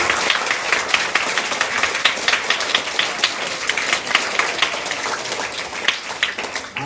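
Audience at a school assembly in Vellangallur applauds with steady, dense clapping that fills the whole stretch at an even loudness, with no voices standing out.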